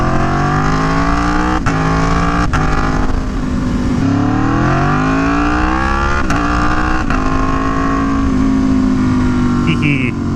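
An Aprilia Tuono V4 1100 Factory motorcycle engine revs hard during a wheelie, loud and close, its pitch climbing through several gear changes with brief sharp shift breaks.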